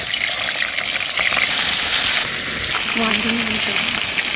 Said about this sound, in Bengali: কড়াই সরষের তেল দিয়ে দিয়েছে, আর এবারে ভেজে নেবে মাছগুলো।